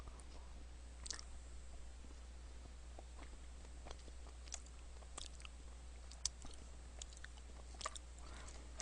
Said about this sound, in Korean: 한번 통째로 씹어볼게요.